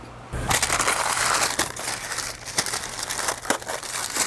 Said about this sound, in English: we'll remove the masking paper and masking tape